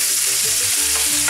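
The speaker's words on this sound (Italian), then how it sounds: "Andiamo ad aggiungere le cipolline e lasciamole insaporire un attimo" Small onions sautéing in a pan for an Italian spring vegetable dish, a loud, close, continuous sizzle and crackle of frying with no voices over it.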